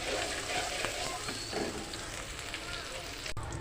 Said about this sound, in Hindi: अब मैं इसमें डाल दूँगी लहसुन अदरक का पेस्ट 1 चम्मच, और इसको भी मैं फ्राई कर लूँगी थोड़ी देर।